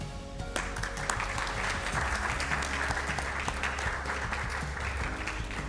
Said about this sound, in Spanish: Queremos recibir en esta oportunidad con un fuerte aplauso al equipo de debate y su profesor capitán del Liceo Brainstorm de Temuco.